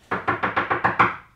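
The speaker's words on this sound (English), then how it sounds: "I hear the bitches knocking." Six quick knocks on a door in an even run, close and loud, with nothing else heard.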